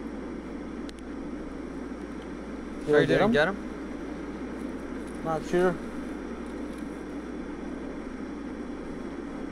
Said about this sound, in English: plane's right above us, by the way.